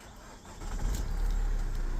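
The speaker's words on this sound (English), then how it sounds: "So I'm going to fire it up, make sure she's out of gear." A Renault Master van's engine cranks and fires up, with the van out of gear while a battery warning light is being tested, building into a steady close rumble with no talking.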